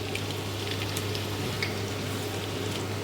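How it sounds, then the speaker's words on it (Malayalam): Onions sautéing in a pan for biryani, a steady soft sizzle with faint crackles and a low background hum, no voices. "സവാള ഇട്ടിട്ട് വഴറ്റി കൊടുക്കും"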